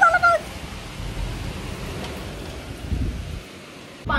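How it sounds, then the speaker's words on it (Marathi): Steady rain falling outdoors with a low rumble of thunder swelling near the end, a continuous wash of sound fairly loud and close, with no one speaking. "ढग बी गडगडतायत. तुम्हाला येतोय का आवाज ढगांचा?"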